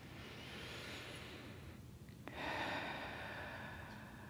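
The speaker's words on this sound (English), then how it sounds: "We'll take one more deep breath right here." A single deep, slow breath taken during a slow-flow deep-stretch yoga practice, soft and airy at first, then a fuller exhale. It is faint against a steady room hiss, with no music or talk.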